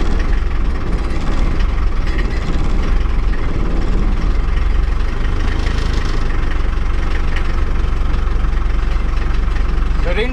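Unimog 421 with an OM660 2.4-litre diesel engine running and given some throttle, a loud, close, steady low diesel clatter and rumble with slight knocking that holds throughout.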